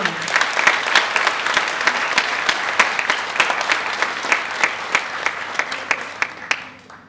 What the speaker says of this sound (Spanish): Aplauso para a maior.